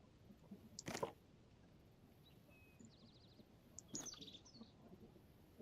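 A bird in the video game Zelda: Tears of the Kingdom makes a few faint, quick chirps, mixed with soft crunching footstep sounds in a quiet outdoor scene.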